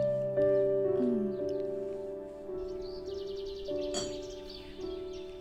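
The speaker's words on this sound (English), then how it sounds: "listening to the unbelievably loud bird sound" Birds sing near a quiet residential area outside Warsaw, clear repeated whistled notes and trills with short rapid chirping bursts, fairly loud and close, with no talking.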